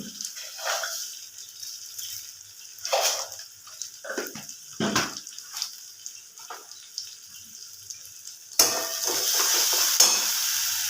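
Spice masala for egg curry being fried with a splash of water in a pan, with intermittent stirring scrapes and bursts of sizzle, then a louder, sustained hiss near the end as the liquid hits the hot pan.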